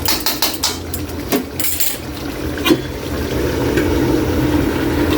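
Metal lid clatters onto a pot of pork adobo with a few sharp clinks and knocks, then a steady low simmering bubble continues underneath.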